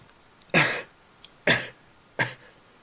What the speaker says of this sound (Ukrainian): каже він і декілька разів кашляє